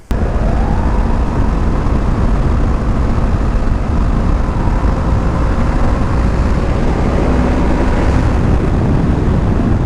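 A Yamaha R3 motorcycle ridden on twisty roads, its engine a loud, continuous drone heard from close by, with wind rush and a slowly shifting pitch as it holds speed.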